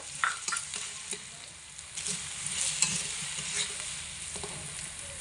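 Star fruit pickle being stirred in a pan, with a steady scraping and swishing of a spoon over a soft sizzle, close and fairly quiet, with no voices.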